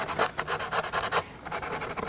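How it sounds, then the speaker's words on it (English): Sandpaper rasps back and forth over a small burr on a laser-cut wooden part from an Ugears hurdy-gurdy model kit, in short, close, rhythmic strokes. "There's a small burr on the wood that should be removed by sanding."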